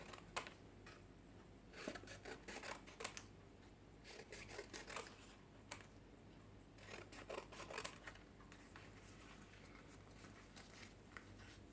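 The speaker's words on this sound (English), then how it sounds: "let's use our scissors to cut the paper" Scissors cutting paper into strips for a recycled paper art activity, a series of quiet, irregular snips and rustles at close range over a low steady background hum.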